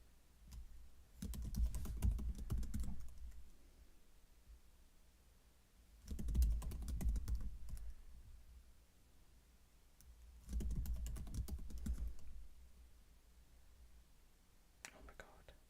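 Fingers type a password on a computer keyboard in three separate bursts of rapid keystrokes, with soft whispering over the typing and quiet pauses between.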